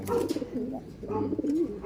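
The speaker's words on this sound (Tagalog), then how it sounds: "Ito yung mga ibon natin nag-aaway-away dahil sa kanyang mga asawa." Pigeons coo and grumble close by in overlapping, agitated bursts as the birds squabble over their mates.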